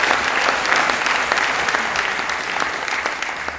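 A church audience applauds steadily throughout, a dense, even wash of many hands clapping at moderate loudness with no pauses.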